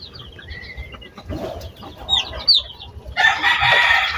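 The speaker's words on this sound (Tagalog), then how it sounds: "Pero yun, yung mga sisiw malalaki." Newly hatched chicks and chickens on a farm, with scattered high chirps and a rooster-like call, then a dense, steady burst of peeping and clucking near the end.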